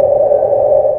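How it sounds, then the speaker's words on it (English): Water spraying from a broken pipe buried several feet underground, picked up through a sensitive listening microphone as a steady, muffled, droning hum with no voices. "That's the sound of water spraying from a pipe feet below the surface."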